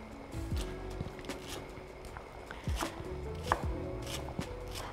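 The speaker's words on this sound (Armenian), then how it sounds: "ես կտրատում եմ իմ կանաչիները" Fresh herbs are chopped with a knife on a board, producing quick, irregular crisp taps at close range, fairly quiet and without talk.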